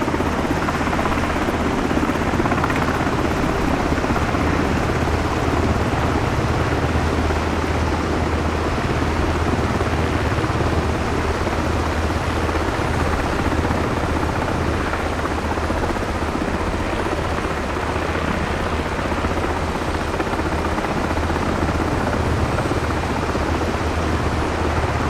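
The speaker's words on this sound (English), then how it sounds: "we are going to be in the Miltech and Blackbird Simulation MH60 Sierra variant with the digital camel livery" An MH-60 Sierra helicopter in the Miltech/Blackbird flight simulator game drones with a constant loud engine and rotor roar, steady and unbroken throughout, heard from outside the aircraft near the Pyramids of Giza.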